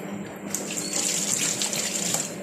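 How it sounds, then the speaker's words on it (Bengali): Kitchen tap water runs steadily into a sink while hands are washed during meat cooking, a close, continuous splashing hiss that grows stronger after a brief start. "হাতটা ধুয়ে নিলাম, তারপর আস্তে আস্তে করে হাতটা ধুয়ে নিচ্ছি।"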